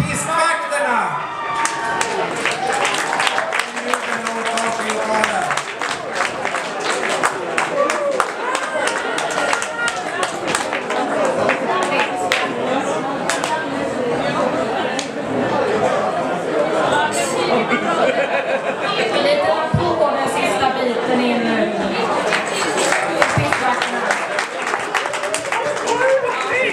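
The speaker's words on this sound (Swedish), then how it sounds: "Vi kan väl ge dem en stor applåd, de här kuliga vinnarna." A crowd at an evening awards event claps and cheers for prize winners, with lively chatter and voices mixed throughout the sustained applause.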